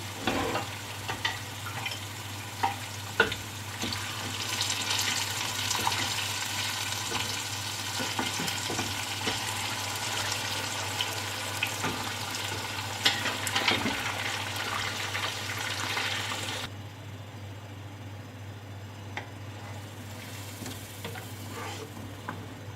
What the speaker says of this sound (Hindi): अब इसमें उबले हुए पाए मैं इसमें शामिल कर दूंगी।